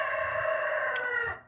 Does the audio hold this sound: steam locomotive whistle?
no